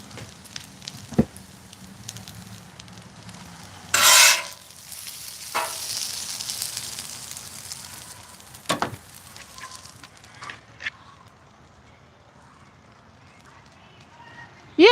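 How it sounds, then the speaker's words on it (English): Food with onions is mixed on a Blackstone griddle, giving a soft steady sizzle with scattered scraping spatula strokes, one sharp louder clank, and light talk underneath. "But I'm just mixing it all together."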